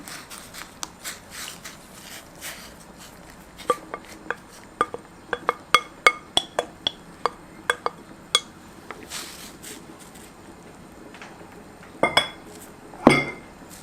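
Eggs being stirred in a pot for a corn-cheese steamed egg dish with crab sticks, a utensil clinking against the pot in a quick irregular run of sharp metallic taps, close and loud, with a few heavier knocks near the end.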